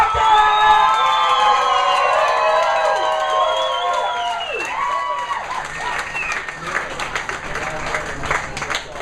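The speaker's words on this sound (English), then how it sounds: "I want everybody to give a big round of applause for my man, Robbie Hockett!" A stand-up comedy crowd at Top of the Stairs claps and cheers loudly for comedian Robbie Hockett, with whoops and shouts over sustained applause that gradually thins out.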